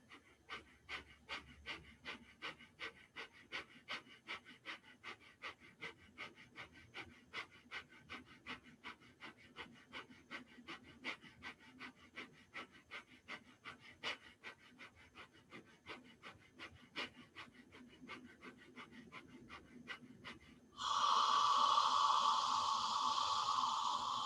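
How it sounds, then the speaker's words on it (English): Breath of fire yogic breathing: rapid, even, forceful nasal exhalations pumping in a steady rhythm for about twenty seconds, close and moderately loud, ending in a sustained louder exhale. "Inhale, breath of fire."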